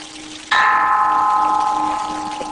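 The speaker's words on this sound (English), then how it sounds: "Gong the bell first. Do a little gong." A small gong or bell struck once on an urban farm, giving a sharp metallic clang that settles into a sustained ringing tone and slowly fades, with no talking.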